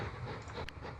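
Train rolling along the rails in the railway-building game Mashinky, a steady low rumble of wheels and carriage noise with a brief hissing burst partway through, close and continuous without talk.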